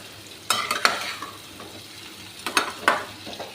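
Poha and semolina balls frying in a pan, with a soft background sizzle broken by a few sharp clattering stirs and scrapes of a utensil against the pan, close by and without talk.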